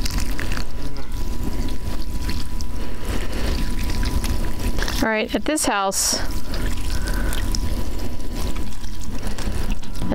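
Water poured from a container into an outdoor pot of oregano makes a steady splashing pour from start to finish, while a voice speaks briefly partway through.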